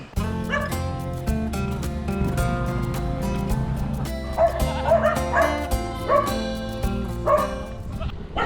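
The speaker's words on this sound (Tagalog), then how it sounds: "Ito mga alaga naming aso rito sa garahe." Pet dogs kept in a garage bark repeatedly and loudly in an uneven run of sharp yaps and woofs, some whimpering mixed in, with a steady low hum underneath.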